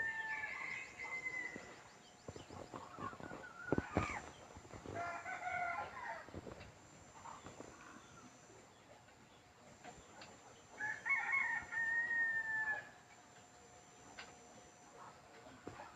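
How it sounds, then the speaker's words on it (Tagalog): A combative gamefowl rooster of the Tres Marias type crows twice, long drawn-out calls near the start and again near the end, with softer clucks and rustling between them and no talking. "Ganda ng tilaok mga ka-hunter."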